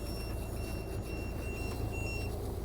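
Aboard a 58-foot Navigator motor yacht, an anchor alarm sounds repeated high electronic beeps in a regular pattern, fairly faint over a steady low engine rumble.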